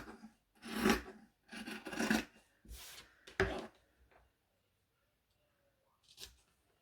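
Sharp fabric scissors snipping through cloth while sewing pieces are prepped, several close, rasping cuts in short bursts, then a pause and one final faint snip.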